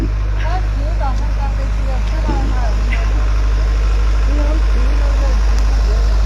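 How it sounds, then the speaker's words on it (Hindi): Cars, trucks and motorbikes sit idling in a blocked stretch of road, a steady low engine rumble filling the whole scene while voices talk over it. "ये देखो जी यहाँ पे गाड़ियां सारी इस तरफ बंद की हुई है"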